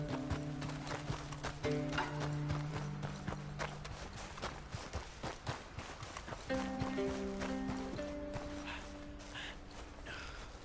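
Horse hooves clip-clop in Red Dead Redemption 2, a rapid running rhythm of close, crisp hoofbeats over a sustained musical score, with a brief whinny in the mix.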